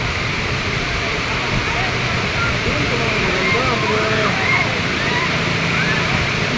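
Rushing water at Wawa Dam in Montalban, Rizal, a steady broadband roar heard up close, with people talking over it throughout.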